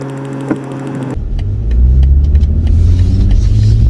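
A BMW M240i's engine rises from a steady drone into a loud, full-throttle surge on a snowy road, the deep engine roar building and holding close up with no voices.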